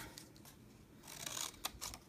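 Scissors snip through cardstock for a craft card in a few quick, close cuts over a soft background hiss, with no one talking.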